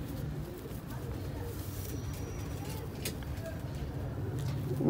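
Ferozpuri pigeons in a loft, soft low cooing under a constant background rumble, with occasional faint flutters and taps.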